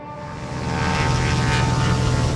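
An airship's engine in the Brassheart video game drones steadily as it comes in to land, a dense propeller-like roar that builds slightly and holds close and loud, with no voices.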